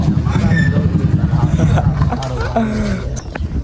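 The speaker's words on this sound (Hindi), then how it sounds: "गाड़ी की आवाज़ बता रही है आ गए।" A car pulls up outside a Hyderabad breakfast spot, its engine rumbling close by throughout while several people talk over it.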